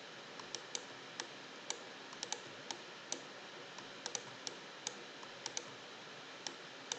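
Sharp mouse clicks while editing in Photoshop, sounding as quiet, scattered single and double taps at an irregular pace with a faint hiss between them.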